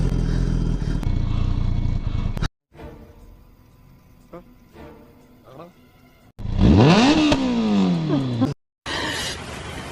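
Superbike exhaust fitted with a dB killer, revving in loud bursts near the microphone, with a rising and falling engine sweep, broken by short silent gaps and a quieter idling stretch.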